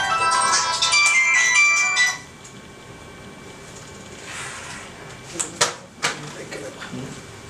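A mobile phone ringtone rings loud and bright for about two seconds in a lecture room, then cuts off, leaving quiet room noise with a few small knocks and rustles.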